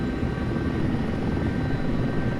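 Wheeled helicopter hovering in a desktop helicopter flight game, a steady loud rotor and engine drone with dense low-end thrum that holds constant throughout, no voices.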